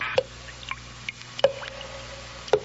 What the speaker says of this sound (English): The sound you hear is dripping blood.